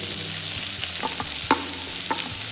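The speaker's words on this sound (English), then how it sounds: "Stir it so that they infuse all the flavors into the oil." Whole spices sizzle in hot oil for a chicken dopyaza while a spoon stirs them, with a steady broadband fry hiss broken by several sharp scraping clicks against the pan, close and fairly loud, no voices.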